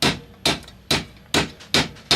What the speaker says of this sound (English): You make sure you use a mallet instead of like a ball peen hammer or something